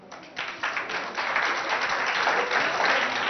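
Audience applause and cheering greet a student contestant from CEG Bilingue de Mongo at a school quiz event, a dense steady wash of clapping that swells after the first half second and holds loud throughout, with no speech.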